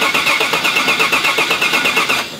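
A red 2018 single cab pickup truck turning over as the key is worked, a steady pulsing crank with a high whine, loud and close, alone, cutting off at the end.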